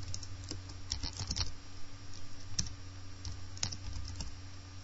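Rapid typing on a computer keyboard, close and clear, with irregular bursts of clicky keystrokes over a low steady hum and no talk.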